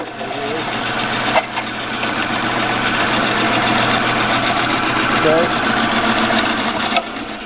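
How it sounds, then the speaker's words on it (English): A band saw's worm gear drive runs in a steady mechanical hum with a faint repeating knock, close by, while someone talks over it. "the worm gear is turning"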